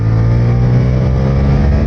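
A Suzuki GSX-8S motorcycle engine drones loud and close on a race track, holding a strong, steady high-revving note from start to finish without a break.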